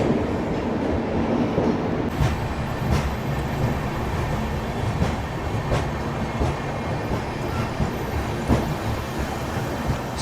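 The 22204 Duronto Express runs steadily at slow speed with continuous loud rumble and rhythmic clickety-clack of wheels over rail joints, heard from inside the train throughout.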